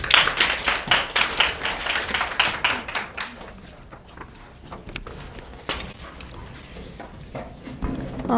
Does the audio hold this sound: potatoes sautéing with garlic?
no